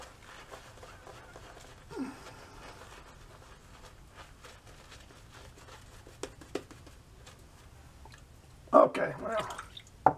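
Water drips faintly and sparsely during a wet shave with a Schick M2 razor and sandalwood soap lather in a quiet room. A louder burst of splashing or rinsing comes near the end.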